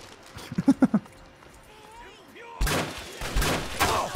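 Video game gunfire from Fallout 3 comes in a short burst of loud, punchy shots, then denser, noisier shooting and impact noise, with people talking over it.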